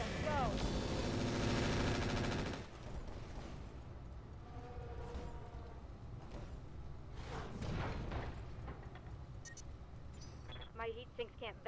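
Mech weapons fire in the Roguetech video game, a loud dense volley for the first couple of seconds, then scattered shots and mechanical clatter, with voices talking throughout.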